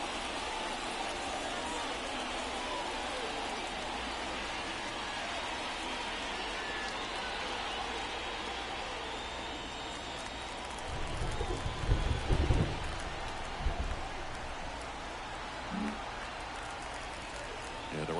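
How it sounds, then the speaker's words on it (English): Rain pours steadily over a baseball stadium in MLB The Show 24 during a Cubs at Pirates game in Pittsburgh, a constant soft hiss under a broadcast commentator's talk, with a brief crowd swell near the end. "It really feels like we might be running out of time before a rain delay is called. This rain is not letting up."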